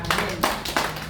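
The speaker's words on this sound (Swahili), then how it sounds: "Piga Yesu makofi." A church congregation claps hands in praise of Jesus, three quick bursts of close, sharp claps in a short burst.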